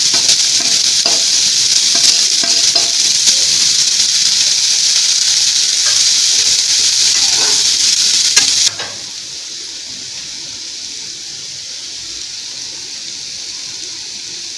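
Sliced onions frying in a pan for Tamil potato bonda give a steady, loud sizzle with occasional stirring scrapes. Partway through, the sizzle drops to a quieter, gentler hiss.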